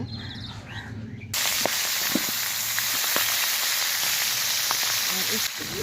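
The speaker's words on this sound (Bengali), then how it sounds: "আর এখানে আমি কড়াই মাছটা ভেজে নেব।" Boal river fish dropped into hot mustard oil in a wok, a sudden loud, steady sizzle starting after a quiet moment and continuing with small pops and crackles before easing slightly at the end.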